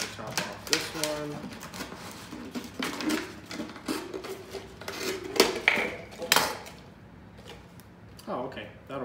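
A plastic Sprite bottle has its top cut off, producing close crinkling, scraping and clicking bursts of handling and cutting, with a voice talking in between.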